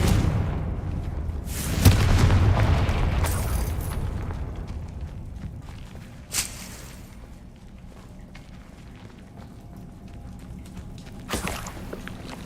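Confringo fire spell explosions in Hogwarts Legacy, three separate booming blasts spaced several seconds apart, the first loudest with a rumbling tail, the later ones sharper and fainter against a quiet ambient background.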